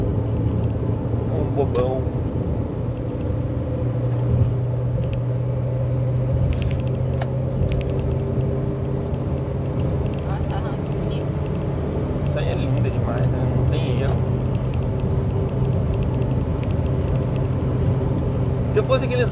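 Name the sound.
Toyota Corolla car passing alongside on the road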